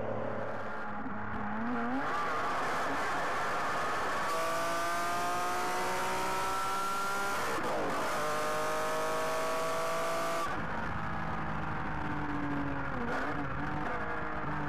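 A Ferrari Enzo V12 on a damp road revs hard through rising gears, its loud, close engine note climbing and dropping with each shift and a brief tire squeal, with no talking.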